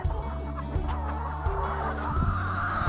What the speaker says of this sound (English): This is happy chickens in a happy little farm.